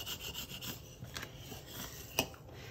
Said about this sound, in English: I'm just taking my Cricut thing. I don't even have a big one. I just use a little one. And I'm just burnishing everything down.